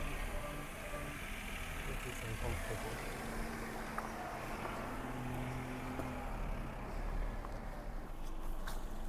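Dacia Duster engine running steadily during an off-road test, a constant low rumble close by under a voice talking.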